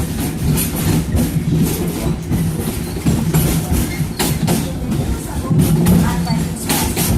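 A theme park train ride rolls along at about five miles per hour, with steady rumbling and rhythmic wheel clatter close by, while a recorded announcement and nearby voices talk over it.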